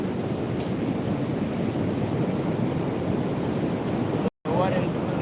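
Steady broad ocean surf rolls and washes ashore continuously under gusty wind noise, with a brief dropout near the end.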